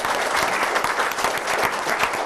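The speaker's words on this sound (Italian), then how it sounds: "un bel applauso" An audience at a regional winter sports games ceremony applauds an official being introduced, a thick, continuous wash of many hands clapping, close and loud throughout.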